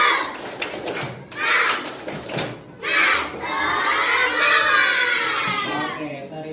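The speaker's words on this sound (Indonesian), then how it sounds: "sebelum mulai pelajaran kita tepuk semangat dulu" Primary schoolchildren in a classroom perform a rhythmic clapping chant, bursts of claps followed by loud excited group shouting and cheering that swells and holds near the end.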